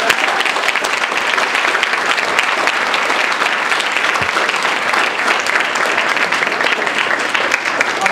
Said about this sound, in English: if we could give them a round of applause for being here